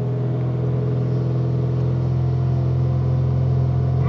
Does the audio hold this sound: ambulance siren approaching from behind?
no